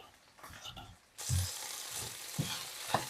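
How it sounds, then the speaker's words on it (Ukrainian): Thin-sliced eggplant frying in a pan for a glass-noodle dish, a steady close sizzle that jumps louder partway through, with a few sharp pops and stirring knocks. "поки смажиться у нас тут баклажанчик"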